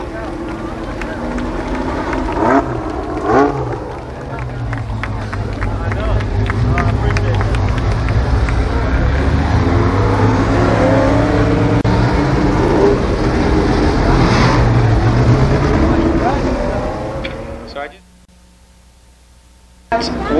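Late model race cars roar around the Columbus Motor Speedway oval in a heat race, a loud, rising and sustained engine rumble with crowd murmur and an announcer talking over it, cutting off abruptly near the end.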